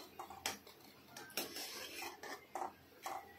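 Flour being stirred into a pan over low heat for patwadi, a spoon scraping and clinking against the metal in short irregular strokes, close and fairly quiet, with no talking.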